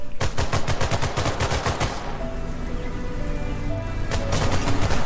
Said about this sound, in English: Yeah, we can totally shoot through this fence.